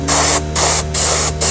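Spray gun blasting white paint onto fishing lures, with an air compressor nearby, giving loud, harsh hissing bursts in a quick on-off rhythm of four blasts.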